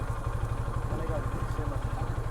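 A motorcycle idles near a jetty ghat on Shahpuri Island near Teknaf, Cox's Bazar, giving a steady, rapid low thumping that runs unbroken and close by throughout.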